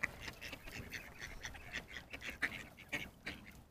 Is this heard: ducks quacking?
yes